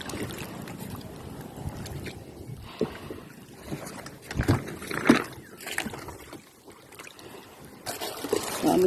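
A bangka boat moves across water at Ginsorongan in Bicol, Philippines, with a steady broadband rush of water and wind buffeting the microphone, plus a few louder splashes or knocks near the middle.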